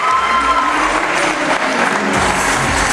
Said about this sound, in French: on vous applaudit très fort quand même